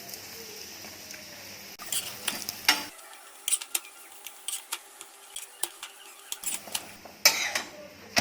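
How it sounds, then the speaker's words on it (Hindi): Urad dal paratha frying in oil on a pan, heard as a faint, quiet sizzle with scattered light crackles and pops, without talk. "इसी तरह दोनों तरफ पलटी करके गोल्डन ब्राउन होने तक इसको तल लेंगे"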